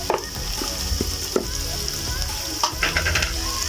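Garlic and carrots fry in a pan while being stirred, a continuous close sizzle broken by a few short scraping strokes of the utensil.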